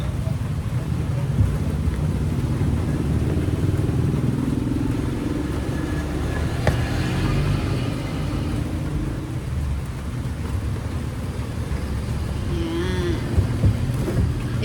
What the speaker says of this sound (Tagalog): Sobrang na ulan masyado.